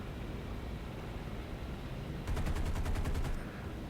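Rapid machine-gun fire from a Zero fighter in War Thunder, one steady burst of about a second of sharp repeated shots over constant engine and wind drone.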